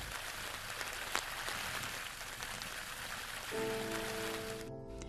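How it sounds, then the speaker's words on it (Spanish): Heavy rain shower with dense drops striking bare ground, a steady broadband hiss that holds throughout, joined near the end by a sustained low tonal hum. "Las gotas de lluvia, de un chaparrón fuerte, tienen una gran energía que descargan sobre el suelo."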